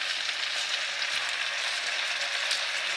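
Pork and Asian spinach frying in a pan, giving a steady, bright, even sizzle with no pauses and no voices.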